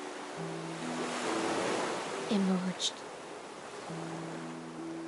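Steady, full ocean surf washes continuously throughout a scene in the video game Honkai: Star Rail, with soft sustained tones and a voice speaking briefly over it.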